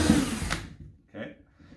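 A cordless drill drives a screw in a short whirring burst that winds down within a second, followed by a brief faint second spin, while a person talks over it.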